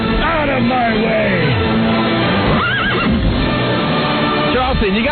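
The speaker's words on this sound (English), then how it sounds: "Leave the horses out front, Charlton." Horses neigh repeatedly as a radio sound effect, several wavering whinnies layered with clip-clop hooves and a voice talking, loud and dense throughout.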